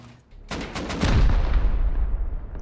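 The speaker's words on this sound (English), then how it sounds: "Should I wait and then shoot?" Rapid gunfire in the survival game Rust: a quick burst of close shots that rolls into a heavy, booming blast with a long rumbling decay.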